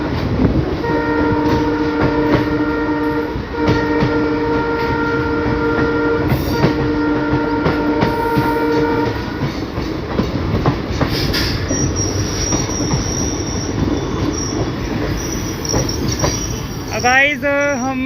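A train on the Delhi–Lucknow main line passes overhead, loud and close, with a steady rumble, rhythmic clatter of wheels and a long sustained horn, ending in a rising squeal of wheels.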